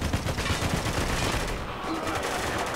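Rapid gunfire in the war shooter Spec Ops: The Line, a continuous rattling burst of automatic shots at moderate loudness throughout the short moment.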